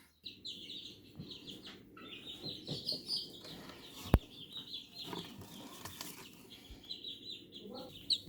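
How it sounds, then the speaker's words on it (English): A small chicken with a wry neck clucks softly in a garden, intermittent close cackles and low murmurs with brief rustling and a sharp knock partway through. "So there's a little chicken."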